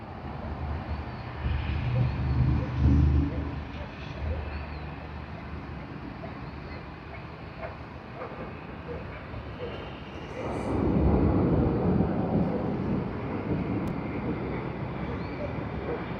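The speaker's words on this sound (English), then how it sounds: "That's Delta DL41 from Los Angeles on the Airbus" Delta Air Lines Airbus A350-900 jet at Sydney Airport, a broad steady roar swelling twice, around three seconds in and again from about eleven seconds, with a voice talking over it.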